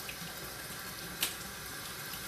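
Cold water runs steadily from a kitchen tap while eggs are peeled, a constant hiss of flow with a single brief splash or clink partway through, heard alone without voices.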